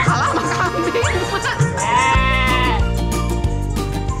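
A goat bleats in a wavering call amid a busy, noisy outdoor setting with other sounds and background chatter.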